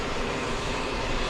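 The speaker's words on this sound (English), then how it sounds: "We have KLM on final KLM" A KLM airliner on final approach gives off a steady, loud, broadband engine roar that fills the short stretch without a break.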